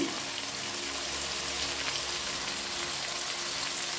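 Vegetable curry sautéing in a pan with panch phoron, bay leaf, dried chilli and ginger-cumin paste, giving a steady, continuous sizzle and crackle throughout, fairly close, with no talking.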